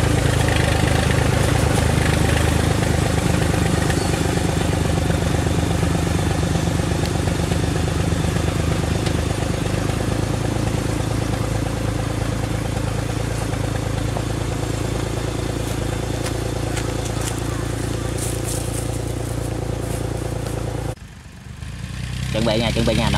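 A tractor engine with a loose bearing runs loudly and roughly, with steady clattering and knocking. The rumble goes on continuously for about twenty seconds, then cuts out abruptly near the end.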